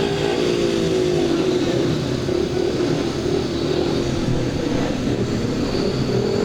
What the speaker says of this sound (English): Bates once again revving away furiously on the inside grid this time.